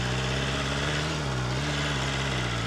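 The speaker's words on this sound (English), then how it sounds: "And I hate this high idle." A 2025 BMW S1000RR sport bike holds a loud, steady high idle, its engine hum droning continuously and close with slight pitch wavers, no voices present.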